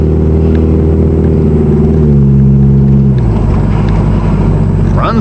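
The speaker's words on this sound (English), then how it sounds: "If I hear the exhaust right there, it comes out right after the converter. A little loud, but not too awful obnoxious." Exhaust from a 1996 Chevrolet Cavalier LS with the 2.4 Twin Cam engine and automatic transmission, piped out right after the catalytic converter: a loud, steady droning hum that shifts pitch partway through, close and continuous.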